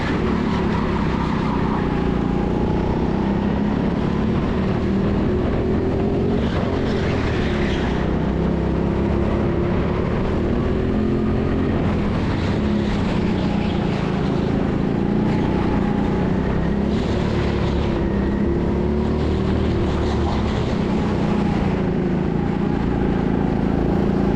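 Racing go-karts on an indoor TeamSport track, with a steady droning engine hum from the kart being driven and faint varying whine from other karts following behind, continuous throughout.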